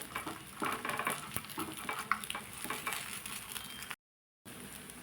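Appe dumplings frying in an appe pan while their second side browns, a soft continuous sizzle with light spatula scrapes and taps close by, briefly cut out near the end.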